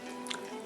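A thin slice of sweet banana, fried crisp like a potato chip, is bitten with a single close crunch over steady kitchen background noise.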